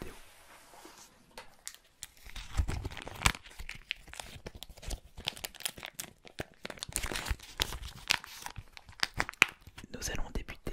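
Lapins Crétins booster pack wrappers are torn open and crumpled up close, in a quiet ASMR setting. Irregular crinkling and ripping bursts continue throughout, with soft whispering underneath.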